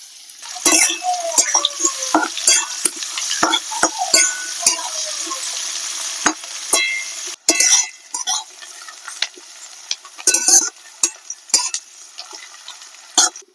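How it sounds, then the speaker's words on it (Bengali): Chopped onion drops into hot oil with garlic in a pan for a Bengali loitta fish dish, crackling and sizzling up close with repeated sharp spatula scrapes and clinks against the pan. "এবারে কুচিয়ে রাখা পেঁয়াজ দিয়ে দেব।"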